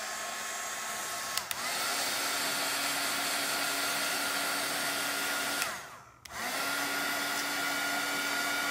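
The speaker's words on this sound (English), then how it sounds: "let me run the dryer over this real quick." A hair dryer blows steadily and loudly over a DIY fall shelf sitter craft, a constant whooshing whir that dips briefly as the airflow shifts, then resumes.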